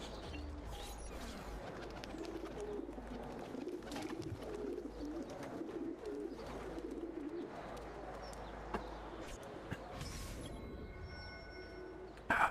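Pigeons coo steadily in Assassin's Creed 2 (The Ezio Collection), soft low calls repeating throughout over quiet game ambience, with a few scattered clicks and knocks and a sharper burst at the very end.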